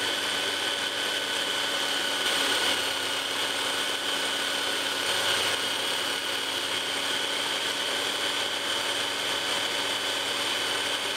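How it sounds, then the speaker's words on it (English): A belt sander shaping wooden guitar hanger arms, a continuous loud whirring hum with a steady high tone and faint grinding surges, close and without voices. "make sure the belt sander doesn't go beyond these reference lines."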